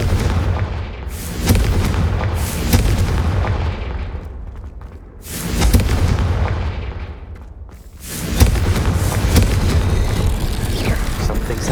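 Confringo blasting spells in Hogwarts Legacy go off as three loud, booming explosions, each a sharp blast that rolls into a long rumbling decay, the bursts spaced a few seconds apart.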